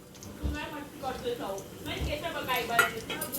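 Grated fresh coconut is stirred into hot oil in a pan, with scattered spoon-on-metal clinks and scrapes under a person talking.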